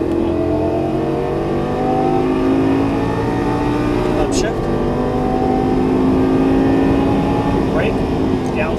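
A Lamborghini Gallardo LP550-2 accelerates at full throttle out of a track corner, its engine a loud, close, rising roar, with a person talking over it throughout.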